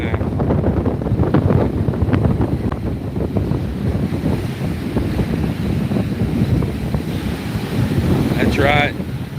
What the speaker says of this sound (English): These waves come in at an angle, so it's breaking that up